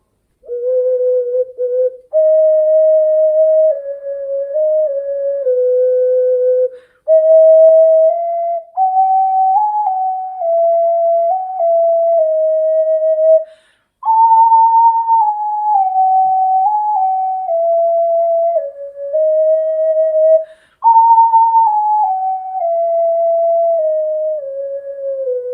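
An ocarina plays a slow, clear melody of sustained pure whistle-like notes stepping up and down, with brief breath pauses between phrases, loud and close, with no talking.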